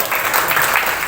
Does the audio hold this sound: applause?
yes